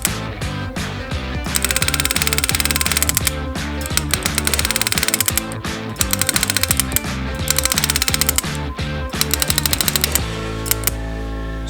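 An LPFG engraving handpiece fitted with a heart burr hammers rapidly against metal, a dense, loud machine-gun-like chatter in repeated bursts as it bounces across the surface, cutting off near the end.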